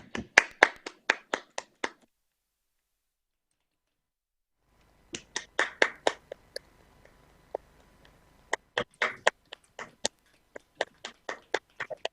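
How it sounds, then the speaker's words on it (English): Sparse, spaced claps from a few individuals at a university graduation ceremony for the School of Law, Criminology and Government, two short bursts separated by a silent gap, close and fairly quiet, with a faint murmur underneath. "Please join me in applauding your and others' achievements."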